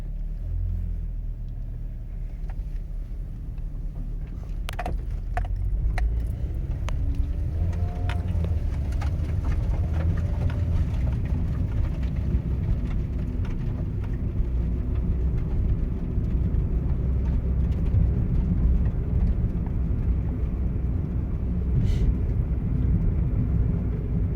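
A Honda Fit with 207,000 miles cruising on the road at about 30 miles an hour gives a steady, continuous engine and road rumble that holds even throughout, with no talking.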